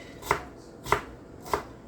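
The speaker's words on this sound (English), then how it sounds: "I'm chopping my peppers into fine, small pieces." Three sharp knife chops through bell pepper on a cutting board, evenly spaced about half a second apart, close and crisp with nothing else around.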